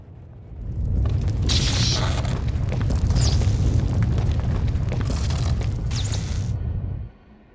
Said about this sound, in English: That's the 5th groundquake since the Hutt's takeover.